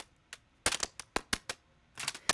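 Crunching from breaking ice, quantized to a sixteenth-note grid and processed through Portal, comes as a string of short, sharp, clicky hits in a rhythmic pattern, some clustered tightly, at a moderate level with no voices.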